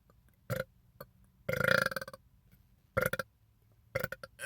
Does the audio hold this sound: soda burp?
yes